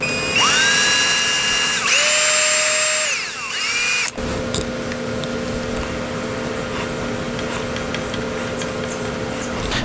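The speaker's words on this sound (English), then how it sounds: "what I like to do is I like to drill one hole" A power drill whines loudly at high speed for a few seconds while drilling a hole in a Flying V guitar kit, dips briefly, then stops abruptly, leaving a low steady hum and faint rattling.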